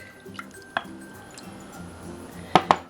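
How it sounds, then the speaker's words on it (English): Milk, butter and honey going into a small saucepan for English muffins: soft kitchen clinks and a few light drips, then two sharp metallic knocks of a utensil against the pan near the end, close and quiet with no talking. "your butter, that's your 2 tablespoons, and your honey into a small saucepan"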